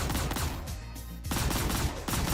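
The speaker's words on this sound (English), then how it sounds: "That Warlord cannon does a lot of damage." Heavy cannon fire from a Warlord cannon in a space-combat video game with light fighters, heard as a dense burst of repeated booming shots, loud and continuous with a brief lull midway.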